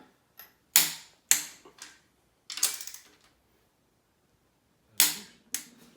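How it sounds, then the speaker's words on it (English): A torque wrench clicks through the final cylinder head bolt torque on a high-power Honda engine build, with sharp, close, isolated clicks in small irregular groups separated by silence. "we're gonna do the final torque now."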